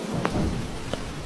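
Thunderstorm effect in a spooky story, a low rumbling bed of rain and distant thunder with two faint sharp crackles, quiet and steady.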